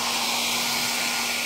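Steady, loud rushing air and a constant motor hum come from a hot air blower drying the damp parts of an Astron automatic washing machine, with nothing else heard during the short burst.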